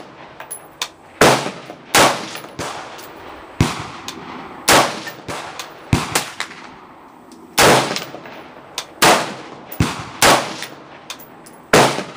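Loud, close gunshots crack at an outdoor shooting range, a dozen sharp reports fired in irregular pairs and bursts with short ringing tails.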